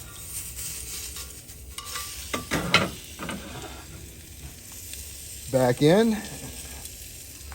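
A T-bone steak sizzles and fries on a pan inside an Ooni Karu 12 pizza oven, a steady crackle under brief speech, with scraping and clanks as the meat is flipped.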